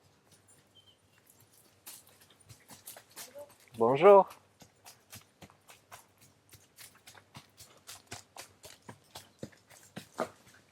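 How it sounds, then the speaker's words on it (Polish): Steady hoof clops of a horse and light footfalls of a dog pass along a quiet forest path, with a brief spoken greeting in the middle. "Konik z pieskiem po tym lesie."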